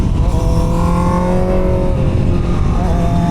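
A Honda CBR650R motorcycle rides through winding twisty roads, its engine note steady and loud with rising and falling harmonic tones as the bike leans through curves, continuous throughout with no talk.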